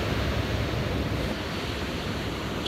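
Ocean surf breaking on a California shore, a steady broadband wash of waves rolling in close and fairly loud, continuous throughout with no voices.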